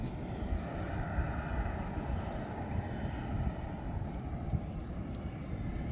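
An aircraft rumbles at Canberra International Airport, a steady, broad low roar heard from a distance with some wind, with no talking.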